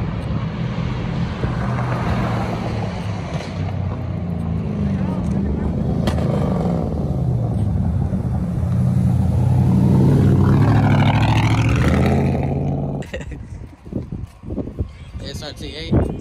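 A straight-piped Camaro SS engine roars and builds as it accelerates, loud and rising over wind noise at a car dealership, with people talking before it cuts off.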